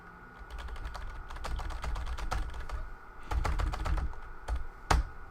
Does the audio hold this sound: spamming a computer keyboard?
yes